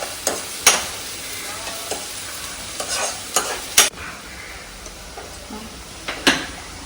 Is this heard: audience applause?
no